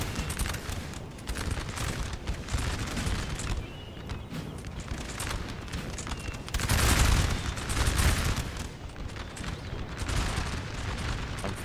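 Massed musket volleys crackle continuously across a Napoleonic battlefield in Napoleon Total War, dense overlapping shots rolling in waves with a louder surge midway, no voices on top.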